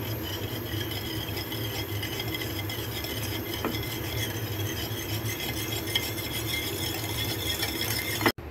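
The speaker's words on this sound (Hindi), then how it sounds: "अब हम चीनी को अच्छी तरह से इसमें मिक्स कर लेंगे।" Sugar being stirred into beaten eggs for soft French toast, heard as a steady, close scraping and stirring of a utensil against a bowl with light rattles, continuing without pause and with no talk.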